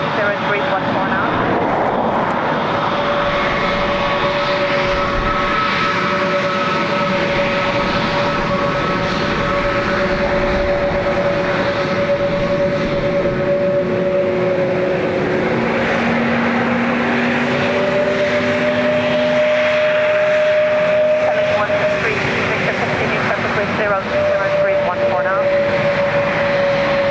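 A jet airliner on its landing run at Dublin Airport roars steadily and loudly throughout, holding a sustained engine whine that shifts pitch partway through, with a voice talking over it.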